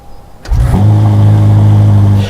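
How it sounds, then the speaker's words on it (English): A Ferrari SF90's 4-liter twin-turbocharged engine fires up abruptly after a quiet moment, then revs loudly and settles into a strong, steady, close rumble. "Then that 4-liter twin turbocharged engine will jump up into life."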